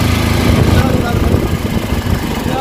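A motorbike engine labours up a steep uphill road, giving a continuous mid-pitched drone with a slight dip partway through, while voices talk over it.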